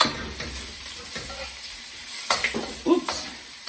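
Pre-cooked beef sizzles in a pan for Chinese-takeaway-style black bean beef, a steady low frying hiss with a few louder scrapes of stirring near the end, close and alone without talk.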